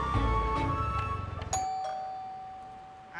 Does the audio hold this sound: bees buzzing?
no